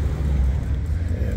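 Yellow Ford Mustang rolling past at a cars and coffee meet in Menlo Park, a steady low engine and road rumble with light wind noise, fairly close and continuous, with voices talking over it.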